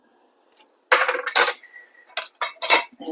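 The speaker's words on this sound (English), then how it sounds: "I'm just going to take a spoon and kind of even it out." Metal spoon scraping and clinking inside a glass jar of homemade garlic salt as it is leveled, several bright close clattering bursts separated by short pauses.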